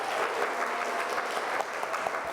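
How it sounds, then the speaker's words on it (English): A crowd applauds after a community panel discussion at an Ottawa senior pride event, with steady, dense clapping that holds for the whole short stretch, close and even in loudness. "So please give everyone a round of applause."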